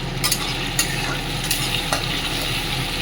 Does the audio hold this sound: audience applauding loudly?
no